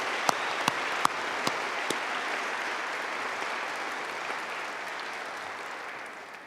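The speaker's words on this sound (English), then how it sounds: "Please join me in a round of applause recognizing these distinguished individuals." Audience applause at a December 2018 undergraduate commencement ceremony, a steady, diffuse wash of many hands clapping in a large hall, with a few sharper nearby claps at the start, fading gently at the end.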